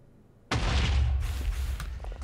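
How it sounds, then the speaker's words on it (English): The Wither's spawn explosion in modded Minecraft (FTB Regrowth) erupts suddenly after a quiet moment, a loud, deep rumbling boom that rolls on and slowly decays. "Let's wait for him to do his little Wither explosion thing"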